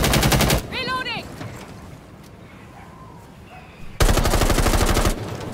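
Loud automatic gunfire in a competitive online shooter wager match, a short burst at the start and a longer rattling volley near the end around quieter ambience with a brief vocal sound.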